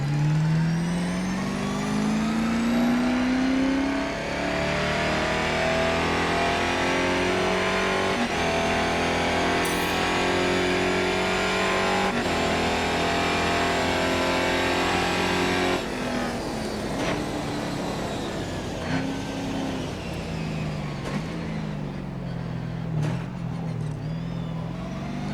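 A V8 Holden Commodore race car in Grid Autosport roars and revs from a full cockpit view, engine pitch climbing and falling through gear changes, loud and continuous with no talk.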